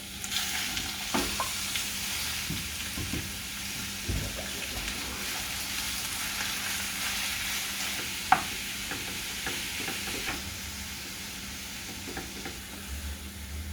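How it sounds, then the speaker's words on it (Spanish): Beef frying in olive oil in a pan for fajitas, with a constant low sizzle, occasional stirring clinks and one sharp knock, heard close and steady throughout with no talking. "Vamos a poner aceite de olivo para freír la carne. Vamos a freír la carne primero."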